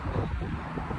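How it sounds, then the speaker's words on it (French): Strong wind buffets the microphone in a steady low roar on Brooklyn Bridge, constant and close with no clear talking. "Là, il y a un vent de fou furieux"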